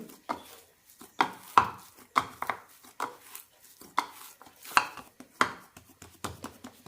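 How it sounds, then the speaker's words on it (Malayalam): Bhatura dough is kneaded by hand after resting, giving close, irregular slaps and dull thumps as it is pressed and folded, with no talking. "മാവ് ഒന്നുകൂടി നന്നായി കുഴച്ചെടുക്കാം"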